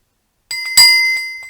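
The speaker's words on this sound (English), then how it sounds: "It's an old school bell." An old metal school bell, held as a gift, rings close and loud: a light first tap, then a strong clang whose bright, ringing tone slowly fades over the following second.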